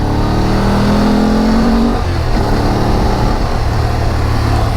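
A BMW motorcycle on a mountain road in Bhutan accelerates hard, its steady mid-pitched engine roar filling the whole stretch up close, with wind rush and the drone of other bikes blending in; a rising engine whine fades near the middle.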